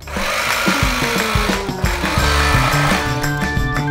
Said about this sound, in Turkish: Elektrikli bıçak geldi efendim.